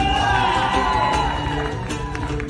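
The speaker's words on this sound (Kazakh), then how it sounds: "Жанар мен Данагүлдей әпкелерім бәріне бір шапалақ соғыңыздар" A crowd at a live show cheers and whoops loudly, with a dense roar of voices and applause that holds steady and fades slightly near the end.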